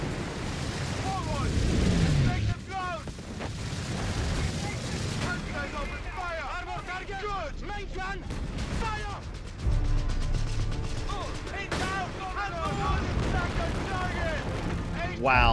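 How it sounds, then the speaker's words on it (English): Airstrike explosions in Company of Heroes 3 North Africa battle, deep booms and rumbling blasts spread across the scene with scattered gunfire, while voices talk over them. "There's the airstrike."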